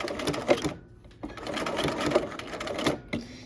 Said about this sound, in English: Okay, so I'm using my buttonhole stitch.